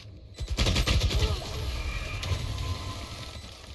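Gunfire in the tactical shooter Valorant on the Icebox map, a rapid burst of shots followed by continued crackling fire and game effects, fairly faint in the mix.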